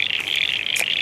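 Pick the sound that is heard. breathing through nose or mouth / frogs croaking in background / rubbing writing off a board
frogs croaking in background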